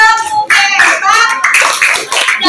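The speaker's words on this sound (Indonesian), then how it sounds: "kasih tepuk hebatnya buat kelompok sekarang. Tepuk hebat." A classroom of children does a rhythmic clapping cheer for a group. Loud, tonal, chant-like voices dominate, with claps mixed in over a few short bursts.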